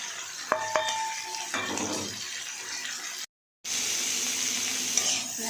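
Salt, cumin, chili and turmeric powder sautéing in a pan, a steady close sizzle with scraping stirs and a few metallic clinks of utensil against pan, cut by a brief silent gap before the frying resumes.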